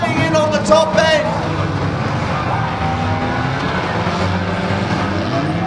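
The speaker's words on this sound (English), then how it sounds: "We've got a lone car running around now as well." Caravan race cars circling a track at Arena Essex speedway create a loud, steady engine roar with shifting pitch, and excited commentary talks over them throughout.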